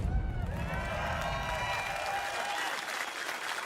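Audience applause swells and patters for a few seconds at the Call of Duty WW2 reveal, a dense wash of clapping from a large crowd, fairly loud and continuous.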